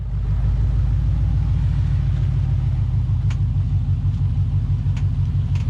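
K5 Blazer crawling across the Rubicon River on the Rubicon Trail, a steady low engine rumble close by with a few faint splashes or knocks over it, no talking.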